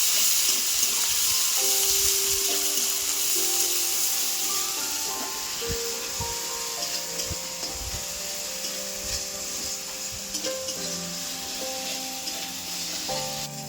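Soft, steady sizzling of ginger and green chilies frying in oil, with occasional scraping of a utensil in the pan.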